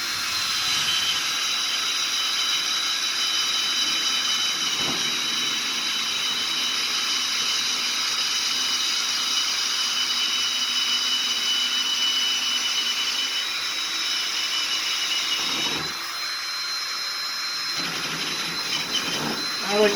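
A steady, loud high-pitched whine of a power drill with a 1/2-inch bit boring a center hole runs almost continuously, dipping briefly near the end before resuming.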